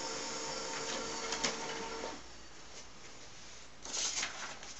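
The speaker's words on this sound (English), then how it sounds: "It says starting to print, and let's see what happens." A printer low on toner runs a page sent from a Samsung Galaxy Note 2, a steady mechanical whir and feed rattle with a brief louder clatter near the end, no talking.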